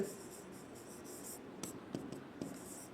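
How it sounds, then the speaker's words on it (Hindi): Chalk scratches on a board in quick, light strokes, with a few sharper taps of the chalk as a sentence is written, faint in a quiet room. "एक टेंस लिखता हूँ मैं"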